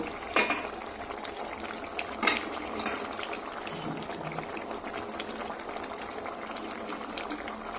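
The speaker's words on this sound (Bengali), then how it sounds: "মাছগুলো একটু দিয়ে নিয়ে ভালো করে নেড়ে নেব।" Prawns stirred into sizzling masala for chingri bhuna: a constant close crackling sizzle with a few sharp scrapes and clatters from stirring near the start.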